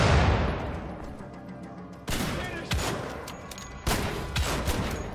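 A grenade blast from the game Wolfenstein: The Old Blood opens with a heavy booming roar that fades over two seconds, followed by several sharp, loud gunshot-like bangs from the battle.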